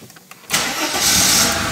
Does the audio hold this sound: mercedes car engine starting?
yes